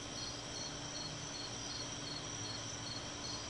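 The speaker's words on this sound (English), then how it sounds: "Listen to the crickets." Steady, dense chorus of crickets chirping without pause, a continuous high trilling with a low background hum beneath it and no voices.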